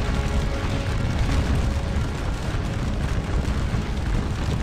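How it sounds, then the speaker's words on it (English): Massed musket volley fire in Scourge of War: Waterloo, a Napoleonic battle game, heard as a dense, continuous roar of rumbling blasts with no clear gaps, loud and steady throughout. "Oh, they're gonna go volley fire."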